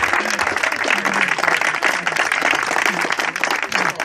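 A crowd at a marathon ceremony claps vigorously for several seconds, with cheering voices mixed into the applause.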